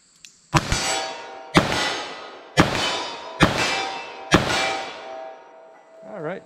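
Five loud, evenly spaced metallic clangs ring out as hard-cast .44 Special bullets strike a steel plate target at 25 yards, each hit ringing and decaying before the next.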